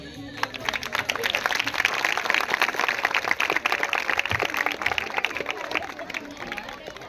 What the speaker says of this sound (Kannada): ನೋಡ್ರಿ ಚಪ್ಪಾಳೆ